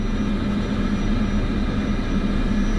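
Cessna Skyhawk piston engine at takeoff power in Microsoft Flight Simulator 2024, a steady loud droning hum with a low propeller tone, continuous and near throughout with no talk.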